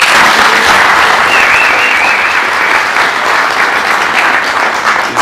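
A crowd at a film screening event in London applauds loudly and continuously, dense clapping filling the whole stretch without letup.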